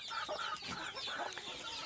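Chicks kept covered on a cold winter morning cluck softly and repeatedly in a quick, busy patter, faint and close with no other sounds.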